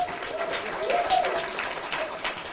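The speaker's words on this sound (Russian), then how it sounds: "Это вы ему аплодируете." An audience applauds at a master class given by a radio station editor-in-chief. The clapping is steady and moderately loud for a couple of seconds and swells briefly in the middle, with some speech-like sound mixed in.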